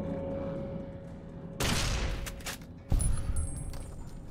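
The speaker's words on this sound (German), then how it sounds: "wieso gehen die Schüsse daneben?" Gunfire in the video game Fallout New Vegas: two sharp shots about a second apart, each followed by a short decaying ring, over a quiet game background hum.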